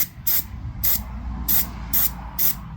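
Five short, bright bursts of olive drab spray paint hitting a Tamiya model motor, evenly spaced hisses about half a second apart over a low background hum.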